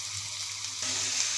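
Cauliflower frying in a pan with turmeric, onion, garlic and a little ground coriander, a steady close sizzle that brightens and grows slightly louder partway through, with no talking.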